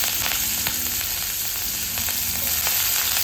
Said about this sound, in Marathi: मिरच्या तेलामध्ये परतून घ्यायचे